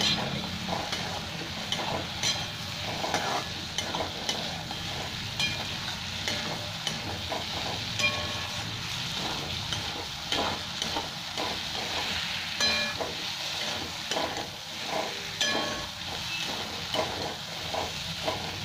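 Bottle gourd (lauki) koftas fry in hot oil with a continuous, dense crackling sizzle, interrupted by frequent stirring scrapes throughout, close and fairly loud, with no one speaking.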